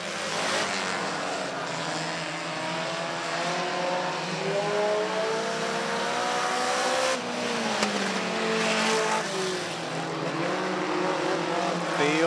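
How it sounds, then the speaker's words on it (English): Race cars roar past on the speedway track at a weekly divisions event, a loud, continuous engine drone rising and falling as the field comes by, with a broad engine rumble throughout. "Homer Middleton as the field comes by the two race leaders."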